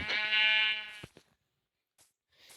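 A single clear Minecraft sheep bleat, fairly close, lasting about a second, followed by near silence and a couple of faint rustles.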